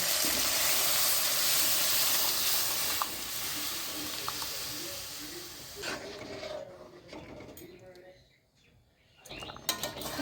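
Boiled bottle gourd and mung dal hit hot spices in a pan, giving a loud broad sizzle that steadily fades and softens, with stirring scrapes and a brief near-quiet stretch before faint clatter returns.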